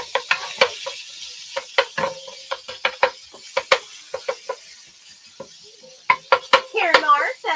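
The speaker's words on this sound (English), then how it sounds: "Ooh, that sizzle sounds satisfying." Ground turkey for tacos sizzles in a pan while a utensil stirs it, giving sharp, irregular scrapes and clinks over a steady, close frying hiss, with a brief vocal sound near the end.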